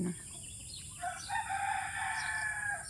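In the countryside in the morning, a rooster crows in a long, rising-and-falling call over a steady insect-like hum, moderately distant, with faint chirps around it.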